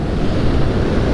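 Ocean waves surging against a quay at Heartland Quay, a loud, dense low roar with wind buffeting the microphone, continuous and close for about a second.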